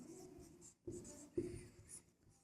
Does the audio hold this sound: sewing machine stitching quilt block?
no